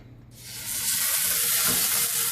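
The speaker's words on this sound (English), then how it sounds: "So there's where you want to hear that sizzle." Chicken hits a hot pan and breaks into loud, steady sizzling that stays close and constant after a brief quiet moment.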